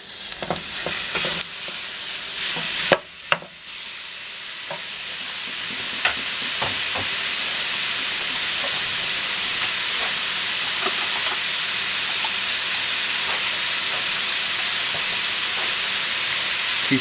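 Ground beef hits a hot pan with carrots and onions and settles into a loud, steady sizzle with hissing steam, broken by a few scraping stirs and clicks early on.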